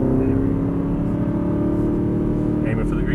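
A car engine on a track pulls steadily under hard throttle while exiting a corner, a loud continuous drone close by with no voices over it.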